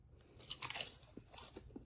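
Someone bites into Popcorners chips and chews them with a few sharp, close crunches, then lighter crunching, quiet and with no talk.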